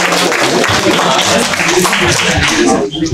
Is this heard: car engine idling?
no